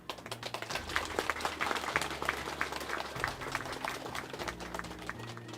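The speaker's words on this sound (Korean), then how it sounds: "여러분 큰 박수 주시면 좋겠습니다" Applause from the congregation at a Buddha's Birthday celebration service at Jeungsimsa temple, greeting a guest as he is introduced; scattered clapping carries on steadily through the whole stretch, moderately loud over a low hum.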